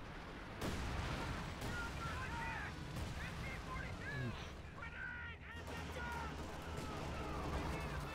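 Battle sounds from the video game Company of Heroes 2: a dense, continuous wash of machine gun and rifle grenade fire with scattered explosions, heavy and sustained, mixed under a commentator's steady talk.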